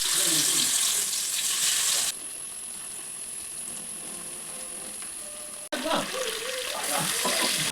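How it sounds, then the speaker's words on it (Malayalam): Karimeen fish fries in coconut oil in an uruli, giving a bright, hissing sizzle. The sizzle is loud at first, then settles into a quieter steady crackle, and flares up again near the end. "ഇനി നമുക്ക് എന്തായാലും ഇതൊന്ന് ഫ്രൈ ചെയ്തെടുക്കാം."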